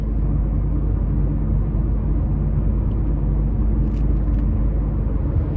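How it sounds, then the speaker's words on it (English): Steady low engine drone from inside a 2014 Mazda CX-5 Sport with a naturally aspirated 2.0-litre four-cylinder accelerating, a constant close rumble of engine and road noise with no talking. "it's a naturally aspirated 4-cylinder. You're pushing a small SUV, not bad acceleration."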